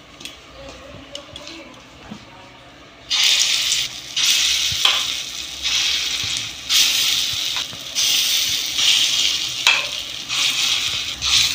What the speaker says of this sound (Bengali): বাকিটা আমি ভেজে নেব।